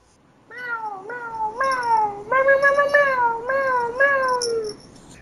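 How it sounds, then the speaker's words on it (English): A cat gives a run of loud, close, insistent meows, about seven drawn-out wavering cries in quick succession with no other sound over them. "the cat walks up to you"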